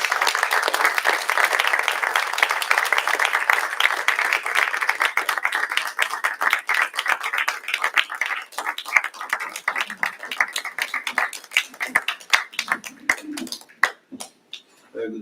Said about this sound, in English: let's welcome up with a big round of applause